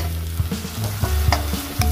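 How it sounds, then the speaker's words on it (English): A chicken, asparagus and broccoli stir fry being stirred in a hot pan, with soft sizzling and a few distinct scrapes and clacks of the utensil against the pan over two seconds. "just give a good stir."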